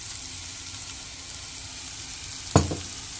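Ground coconut and long beans sauté on a slow flame, a soft, even frying hiss close by, broken once by a sharp clatter of a spoon or pan.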